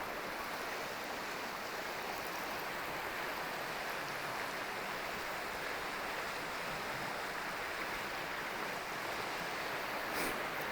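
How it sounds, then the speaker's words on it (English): Waterfall spilling down a rock face in ancient woodland, a steady, hissing wash of falling water, fairly faint and constant throughout, with no voices. "And the waterfall on this rock face."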